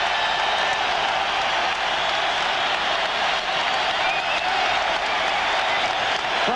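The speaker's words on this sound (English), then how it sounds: "Crowd here at Chicago Stadium roaring its appreciation as the Bulls take the court." A large indoor crowd at Chicago Stadium roars and applauds continuously as the Bulls take the court in Game 6 of the 1992 NBA Finals, a dense wash of cheering and clapping that never lets up.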